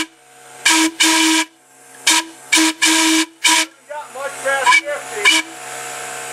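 A vintage Chautauqua Traction trolley car whistle, blown with air from a compressor, sounds in short loud blasts, several in sequence, followed by fainter, wavering toots as the air pressure drops, with a hiss between bursts.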